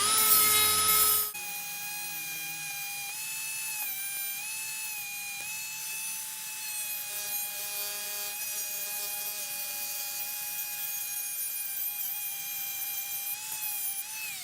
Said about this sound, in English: I'm hitting this stuff with the Dremel a little bit